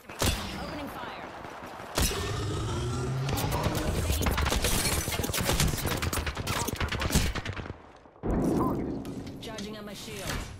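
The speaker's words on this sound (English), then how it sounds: "Opening fire." Gunfire during a ranked firefight in the shooter game Apex Legends, with loud bursts of rapid shots and sharp mechanical clatter, a pause before a final burst near the end.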